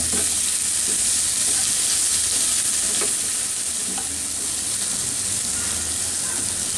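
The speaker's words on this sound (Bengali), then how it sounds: "মিনিট খানেক পরে আমি চিংড়ি মাছের মাথাগুলা দিয়ে দিই, দিয়ে এর সাথে একটু ভেজে নিব।" Prawn heads frying in a pan with garlic and onion, a loud constant hissing sizzle with scattered stirring taps and scrapes, close up and without talk.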